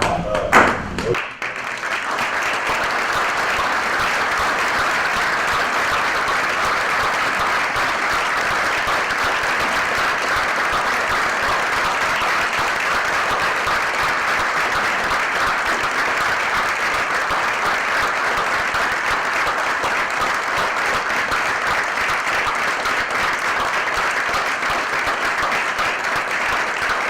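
A room of attendees at a county commissioners court meeting breaks into steady, loud applause after a vote, dense clapping holding evenly for nearly half a minute after a brief sharp onset.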